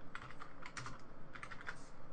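Quick irregular clatter of keys typed on a computer keyboard, close and fairly quiet, with no talking.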